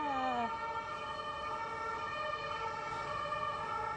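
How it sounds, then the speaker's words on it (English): An emergency vehicle siren wails, rising and holding steady, loud and continuous, with no voices over it. "Sirens."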